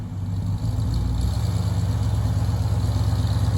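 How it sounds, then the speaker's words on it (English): A black 1978 Mercury Grand Marquis Coupe idles nearby, its exhaust giving a steady, deep, loping rumble with no talk over it. "Beautiful 1978 Mercury Grand Marquis Coupe, black with the red interior. Sounds good too. I like the exhaust."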